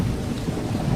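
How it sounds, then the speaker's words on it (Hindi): Thunder rumbling with heavy rain pouring steadily during a sudden storm over a forest hut, a dense, continuous low roar and hiss that stays loud throughout with no voices. "आसमान में बिजली कड़कने लगती है और तेज बारिश शुरू हो जाती है"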